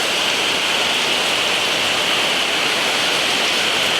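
Rainwater pours into a basin in a steady, dense, loud rush, with no break and no voices.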